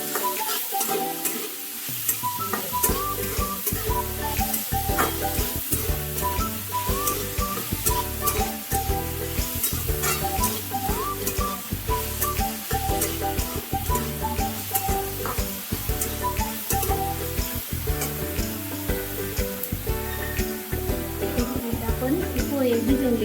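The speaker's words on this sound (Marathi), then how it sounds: "कांदा परतण्यासाठी मी आता थोडंसं अर्धा चमचा मीठ टाकते." Onions sautéing in a pan with half a teaspoon of salt for kanda poha, with steady stirring and sizzling running throughout under continuous background music.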